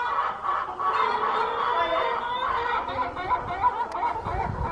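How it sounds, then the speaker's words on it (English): Several hens in a backyard coop cluck and chortle continuously in a busy, close chorus, with overlapping raspy calls and scratchy ambient noise from the surroundings. "Can you see those chickens?"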